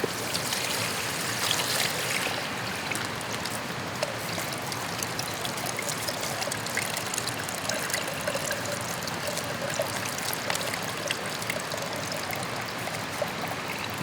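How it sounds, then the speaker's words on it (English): Cold water pours steadily over dried beans being washed for bean soup, a continuous close splashing trickle with no talk. "I'm going to pour this water in there."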